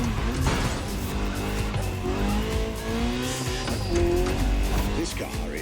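A Ferrari 308 GTX driven in The Crew Motorfest racing game: loud engine revving through shifts with tires squealing and skidding, close and sustained throughout.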